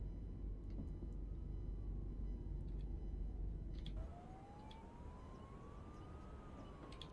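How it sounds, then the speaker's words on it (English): In the railway simulator Train Life, a wailing siren rises and falls in the distance over a loud, steady train engine rumble that drops in level partway through. "Can hear sirens."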